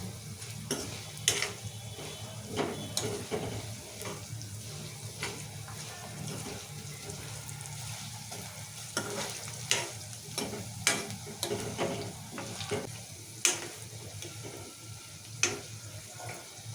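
Sesame seeds spluttering and popping in hot oil for a Telugu tomato and green chilli chutney, a steady close sizzle broken by many sharp, irregular crackles and pops, with no one talking.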